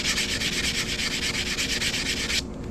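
An abrasive pad rubs against the side of a ring made from a quarter coin, giving a steady, close, rhythmic scrubbing hiss that runs on evenly and then stops abruptly near the end.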